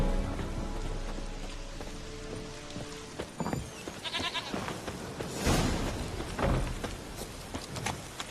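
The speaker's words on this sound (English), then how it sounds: "Princess the goat." A goat bleats in The Witcher 3 video game, several short wavering cries spread across the stretch over a light patter of rain-like background ambience, with no talking.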